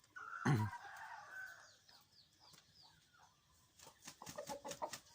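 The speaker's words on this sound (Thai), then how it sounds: "ไก่นมครับ" A five-and-a-half-month-old young rooster gives a short, scratchy crow, then soft clucks follow, faint and fairly close in a quiet setting.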